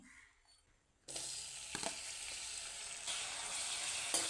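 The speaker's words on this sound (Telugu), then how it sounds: "చూడండి, పోపు వేసుకుంటున్నాం, సన్న జీలకర్ర, ధనియాలు," Green chillies, cumin and coriander seeds hit hot oil with a sudden loud, steady sizzle that sets in after a quiet start and keeps crackling, with a few sharp pops and stirring clinks, no talking.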